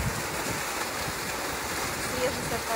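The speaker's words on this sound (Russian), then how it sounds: "вот такой здесь водопад." A steady, broadband rush of a waterfall fills the scene, constant and fairly close, with faint indistinct sounds underneath, at a resort park in Šibenik, Croatia.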